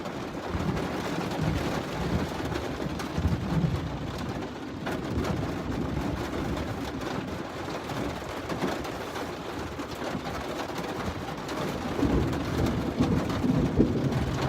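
Heavy rain pours steadily during a severe Alabama thunderstorm with tornado activity and a lightning barrage, with rolling thunder rumbling underneath; the roar is continuous and enveloping, with no voices.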